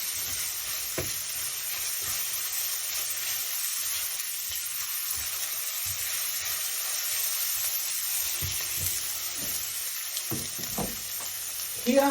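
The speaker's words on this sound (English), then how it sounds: "Cover it, and then you go on with stirring your onions." Onions frying in a pot, giving a steady soft hiss of sizzling oil with occasional quiet knocks of stirring, fairly even and moderately loud with no voices.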